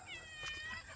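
Cat on a rural Philippine farm giving a short, faint meow, with someone talking quietly in the background.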